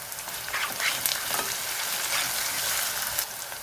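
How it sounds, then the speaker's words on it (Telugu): Ginger garlic paste frying in hot oil with chillies for a chana pulao, a steady close sizzle with occasional stirring scrapes running the whole time, no voices. "అది ఫ్రై అయిన తర్వాత ఇందులో అల్లం వెల్లుల్లి పేస్ట్ వేయండి."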